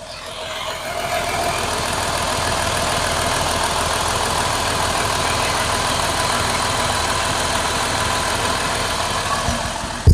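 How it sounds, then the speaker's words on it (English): A 3.6-liter Pentastar V6 idles close up, its steady engine drone carrying a rapid, fine ticking from the valve train throughout, loud and continuous with no talking. "hold the microphone over here so that hopefully you can hear the valve train ticking with this engine"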